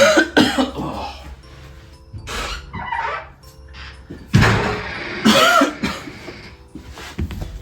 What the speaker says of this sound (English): just coughing up a lung